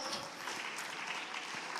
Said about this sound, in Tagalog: Palakpakan natin ng malakas na palakpak.